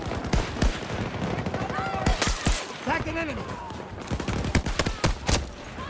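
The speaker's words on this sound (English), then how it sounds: "he's one-shotting me with the pistol" Rapid, loud gunfire from the Battlefield 2042 video game, including pistol shots, with dense repeated sharp bangs and bursts throughout and tonal game effects in between.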